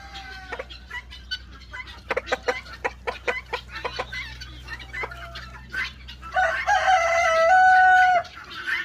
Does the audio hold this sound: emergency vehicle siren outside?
no